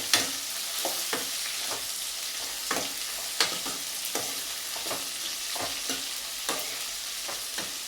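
Whole spices fry in a pan while being prepared for an egg and chicken curry, a soft continuous sizzle broken by repeated scraping stirs and light clicks of a spoon against the pan, close-up and with no talking.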